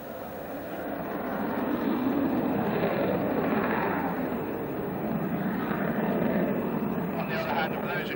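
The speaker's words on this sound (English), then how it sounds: "it occurs to me that this is our first jet of the day today" Jet aircraft passing overhead, a broad steady roar that swells gradually and holds for several seconds without pause, loud and continuous.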